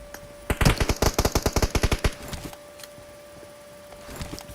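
Automatic gunfire in PUBG Mobile, a rapid burst of about fifteen sharp shots over a second and a half, followed by a few scattered distant shots over a steady background tone.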